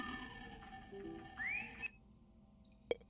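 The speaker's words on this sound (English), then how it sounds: "That was a unique whistle." A whistle in the horror game Lost in Vivo: a short rising tonal sweep, briefly held and then cut off, over a soft low game ambience, followed by a sharp click near the end.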